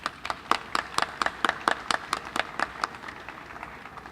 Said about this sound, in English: I want us to acknowledge all 3 of them with a round of applause